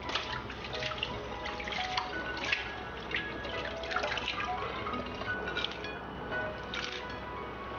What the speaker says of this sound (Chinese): 首先把虾处理干净